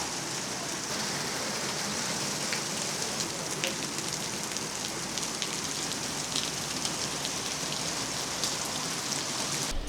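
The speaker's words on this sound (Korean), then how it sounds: "비가 엄청 내리네요 진짜" Heavy rain pours down outdoors on a rainy night, a dense, steady hiss of drops hitting surfaces that fills the whole stretch at close range, with no voices.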